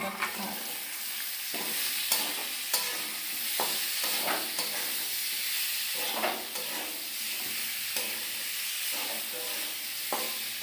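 Potatoes with green chilli and garlic and ginger paste frying in a pan, a continuous bright sizzle with repeated stirring scrapes and clinks, close and alone without speech.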